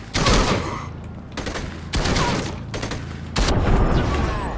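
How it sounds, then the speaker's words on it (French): Gunfire in the video game Gemini: Heroes Reborn: loud bursts of automatic fire come in dense clusters separated by short pauses, close and dominating the soundtrack. "Et ça tire."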